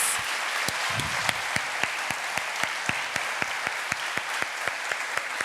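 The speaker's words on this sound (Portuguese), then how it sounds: "Você pode aplaudir esse Jesus?" A church congregation claps steadily in a service, loud, fairly even applause with some sharper rhythmic claps standing out, filling a large room with no voices on top.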